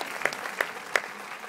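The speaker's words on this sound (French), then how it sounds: "on peut les applaudir bien fort. Applaudissements." Audience applause at a French film premiere, a steady patter of clapping from a sizeable crowd with a few sharper individual claps standing out.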